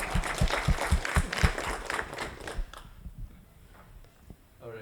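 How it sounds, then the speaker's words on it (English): Audience applause at a talk-show style event, a scattered round of clapping that is fairly soft and fades out after about three seconds into room quiet. "let's give a big round of applause to Rishi also"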